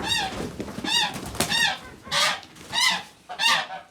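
Fattening geese on a farm honk loudly and close by, with about six harsh, nasal calls in an uneven rhythm and no talking.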